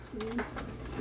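A pigeon held in someone's hands gives a short soft coo, close by, over steady outdoor background noise.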